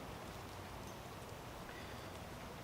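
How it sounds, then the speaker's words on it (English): Steady, faint hiss of rain falling outdoors near an electric smoker, an even wash of noise with no pauses and no voices. "You might be able to hear the rain in the background."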